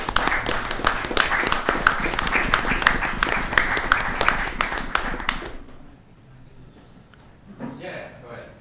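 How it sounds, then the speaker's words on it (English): An audience at an academic symposium breaks into steady applause, dense overlapping claps for about five seconds that then fade out, followed by faint talk. "let's give them a round of applause"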